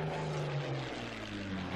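A propeller aircraft engine drones steadily at low level in a WWII strategy video game set on the Burma and Ledo roads, a faint continuous hum with a slight wavering pitch that ends in a short burst.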